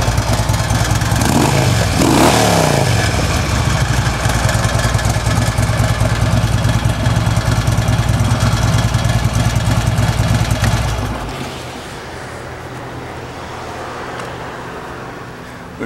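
A Harley-Davidson Ultra Limited FLHTK motorcycle with true dual exhaust idles steadily and loudly up close, with a brief rev near the start before the engine note drops and settles lower toward the end.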